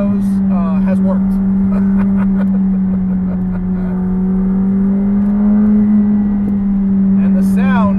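A McLaren 765LT engine drones steadily at high revs, loud and close, with a voice speaking over it and the pitch rising briefly near the end.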